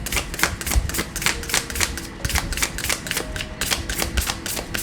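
Shuffling produces a rapid run of crisp, dry clicks in quick bursts with brief pauses between them, close and steady, with no voices.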